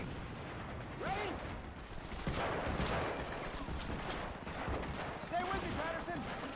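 Gunfire in a World War II video game during a cover-fire advance: a dense, continuous battle din of scattered shots, clanking mechanisms and rumbling noise at steady loudness throughout, with faint voices mixed in.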